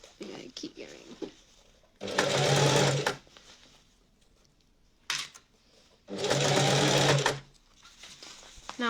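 Sewing machine stitches a children's coat in two sustained runs of about a second and a half each, loud and close, with quiet talk and handling noise between them.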